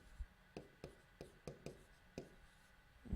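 A pen or pencil writes a math answer on paper, a series of about seven soft, separate taps and strokes at an irregular rhythm, close and faint in a quiet room.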